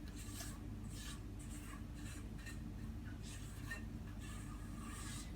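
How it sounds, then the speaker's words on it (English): A scraper works around a mixing bowl of almond bread batter in quiet, repeated rubbing strokes, each a soft scrape in a loose rhythm, heard close and alone. "And to scrape out the bowl."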